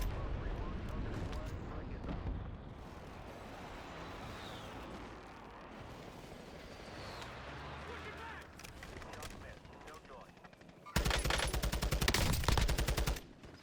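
Rapid TAQ 56 rifle gunfire in a first-person shooter video game, bursts crackling over dense game noise with a louder, sharper volley near the end.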